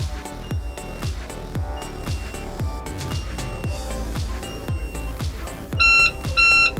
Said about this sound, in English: wait for the alarm